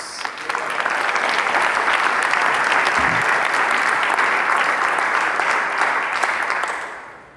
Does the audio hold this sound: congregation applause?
yes